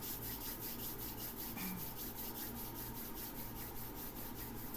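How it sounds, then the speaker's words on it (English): Hands rubbing together during an EFT tapping session, a steady soft swishing friction that continues evenly and fairly quietly throughout, with a brief sharper sound right at the end. "And just rubbing your hands together again."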